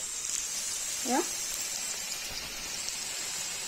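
Chicken for chicken kosha fries in a pan with a steady, hissing sizzle. A voice briefly sounds over it early on.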